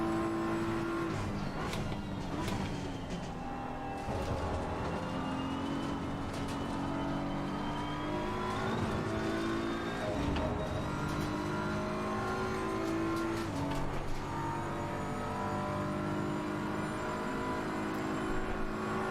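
A Jaguar race car engine in the racing video game Assetto Corsa Competizione roars and revs continuously, its pitch rising and falling through gear changes, loud and steady with faint voices underneath.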